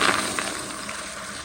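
A 2008 American Standard Madera toilet flushes with a short, steady rush of water into a bowl already holding water, fading slightly over about a second and a half, close and alone.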